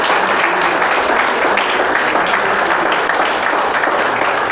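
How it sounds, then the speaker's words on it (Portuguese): Steady, dense applause from a large church congregation fills the whole stretch, loud and continuous without pause. "Quem crê pode aplaudir,"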